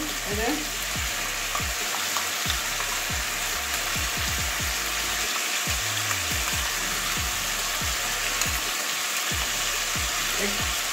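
Poppy seed paste added to a pan of frying chicken curry, a steady loud sizzle with repeated scraping stirs close by.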